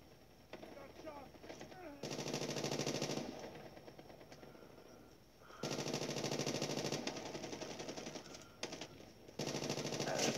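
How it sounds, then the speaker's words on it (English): Automatic weapon hip fire in Call of Duty Mobile, several sustained bursts of rapid gunfire separated by short pauses, loud and close over quieter game sounds. "I think I can just hip fire and have the perfect recoil."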